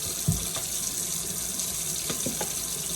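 A kitchen sink tap runs in a steady close stream while hands are washed, with faint splashes and knocks against the basin.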